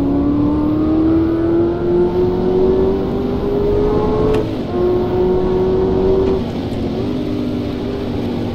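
A race car engine in the racing video game rFactor holds a loud, steady high whine that climbs slowly through the gears, dips briefly at shifts, then settles into a sustained drone with no talking.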